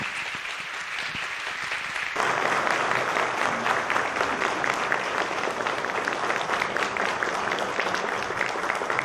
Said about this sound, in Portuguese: Toda a sala de palmas.